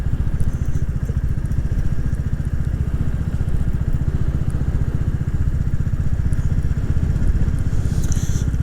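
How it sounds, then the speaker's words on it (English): Motorcycle engine running on an island road near a golf course, a steady loud low rumble with rapid pulsing throughout, holding close and constant with no voices over it. "A motorcycle or two."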